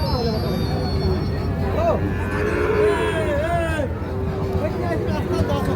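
A Sahiwal bull calf at a busy cattle market gives several drawn-out moos amid crowd babble, with people talking nearby throughout.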